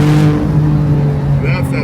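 A twin-turbo six-cylinder sports car accelerates with a loud, steady engine drone that builds briefly, close by, with a voice faintly present underneath.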